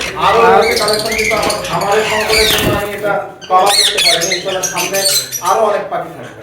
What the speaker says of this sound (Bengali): এত টিয়া পাখি আমি মনে হয় যে এতগুলো টিয়া পাখি আর দেখি না কখনো